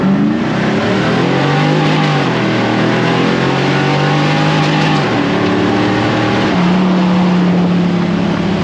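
The LS V8 in a swapped Humvee revs hard on a dyno while its tires spin, making a loud, continuous engine roar that climbs and holds in pitch, shifting gear twice, with no speech over it.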